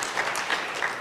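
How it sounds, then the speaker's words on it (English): A lecture audience claps in a brief, steady patter of applause, moderately loud and even throughout. "Now I wanted a little bit of applause."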